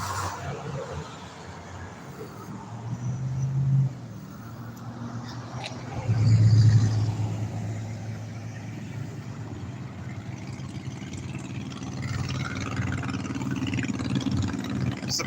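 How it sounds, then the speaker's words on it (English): Cars rolling along a street on a weeknight, a continuous low rumble of traffic with a couple of louder vehicles swelling past up close. "Surprised at all the traffic for a weeknight and these loud cars."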